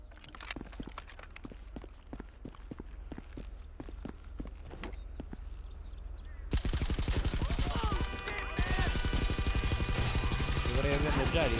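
Rapid bursts of gunfire in a video game, loud and dense automatic fire with a brief pause in the middle, following a stretch of quick rhythmic footstep-like ticks.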